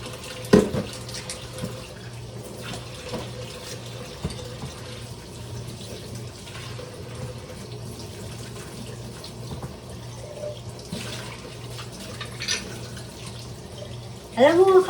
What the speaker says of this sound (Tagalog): hugasan ko yan kasi pag ginagamit natin, ang lagkit-lagkit.